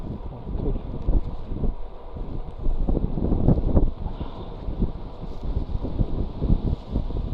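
Strong gusty wind during an outdoor bicycle ride rumbles and thumps against the microphone, rising and falling in bursts without any speech.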